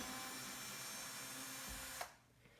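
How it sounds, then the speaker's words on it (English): A power screwdriver backs out the top screws of a Greenworks 40V battery lawn mower during a repair, a close, continuous whirring buzz that cuts off abruptly near the end, leaving quiet. "We can now come in with our screwdriver and remove these last 2 top screws."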